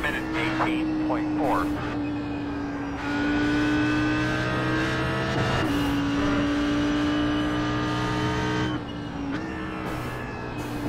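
Audi R8 GT3 at Mosport in iRacing, loud steady engine drone in third gear with pitch swells and gear changes as the car accelerates, someone talking over it.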